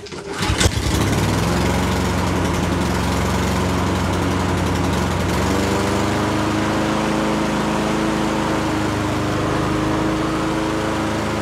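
Toro Recycler self-propelled lawn mower after repair, its small engine cranking and catching, then running loudly and steadily at close range with a firm, constant drone.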